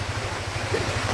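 The flooded Aik Sirahar river rushes past in a steady, loud wash of broadband water noise with a low churning undertone, heard briefly and alone.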